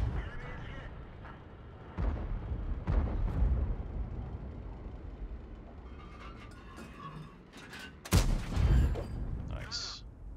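World of Tanks cannon fire from a UDES tank shooting an APCR round, heavy booming shots over rumbling engine and battle noise, with a loud blast near the end and a voice talking underneath.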